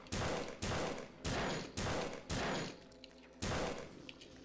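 Gunfire in System Shock 2, five loud sharp shots in a quick regular rhythm, a short pause, then one more blast, each ringing briefly.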